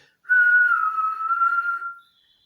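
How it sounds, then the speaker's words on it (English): A single sustained whistled tone from a spirit box, clear and steady for about two seconds, wavering slightly in pitch before fading out into silence. "You could actually hear the dear spirit whistling."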